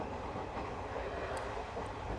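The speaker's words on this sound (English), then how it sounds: "the Hartford Fishkill Railroad breaks out of the woods and curves around the final bends of track in its approach to Bristol" A Hartford Fishkill Railroad train rolls steadily along the track toward Bristol, a continuous close rumble and rattle of wheels and cars without pause.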